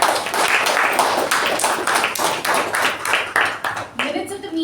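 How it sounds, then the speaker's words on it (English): Small meeting audience clapping together, a steady run of sharp, fairly close claps lasting several seconds before thinning out at the end. "Let's give her a huge round of applause."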